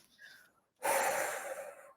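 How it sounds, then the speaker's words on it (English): A single deep breath, drawn in briefly and then let out in one long, steady exhale during yoga breath work, close and fairly loud with no talking over it. "I am using my yoga certification right now and doing my breath work"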